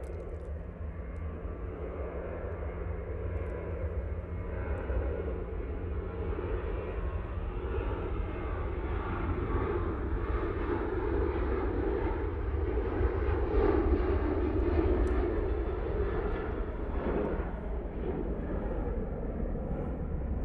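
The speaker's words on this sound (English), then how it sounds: "next out, we have this Ryanair going off to Derry" A Ryanair jet takes off from Manchester bound for Derry, its engines a steady, loud roar that holds for the whole stretch and swells slightly toward the middle, with no talk over it.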